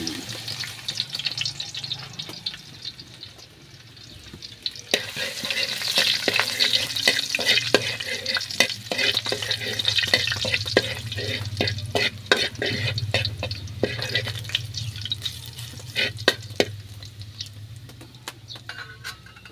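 Garlic sizzling in a pan while vegetables are being cooked, a steady crackling fry with repeated sharp scraping and stirring clicks, close and fairly loud, with no talking.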